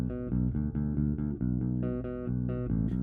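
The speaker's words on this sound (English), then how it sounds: "My unmixed bass sounds like this." An unmixed bass guitar, plugged straight into an audio interface, plays a steady run of plucked notes with a dry, full, close tone and no other sounds.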